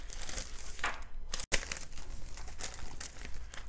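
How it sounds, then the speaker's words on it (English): A plastic sleeve crinkles as a short lint canvas is unboxed, giving steady close crackling and rustling that runs throughout with one abrupt break midway, no voice. "Sorry for a crinkling. We all love the crinkling."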